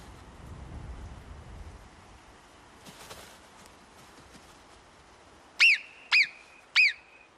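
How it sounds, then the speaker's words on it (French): Alpine marmots in the Pyrenees mountain meadows give three shrill, sharp alarm whistles in quick succession, loud and close, over faint ambient background. "Ces sifflements stridents sont un signal d'alarme."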